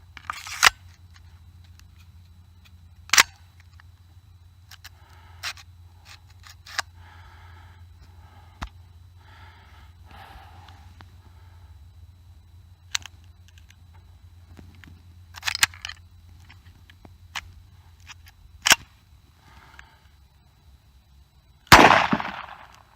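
Cheap handgun fired through a magazine outdoors, isolated sharp cracks spaced irregularly over a steady low hum, with softer handling clicks between shots and one loud burst at the end.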